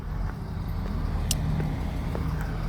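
A tour vehicle idles nearby outside a hotel near the old church in Veldenz, a steady low engine drone with faint roadside clicks and no speech.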